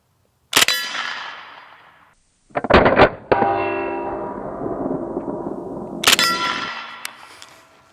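Rifle fire is captured through the scope: a sharp, loud shot with a ringing metallic tail, then a close cluster of shots, a long clanging ring, and one more crack near the end, with no talking.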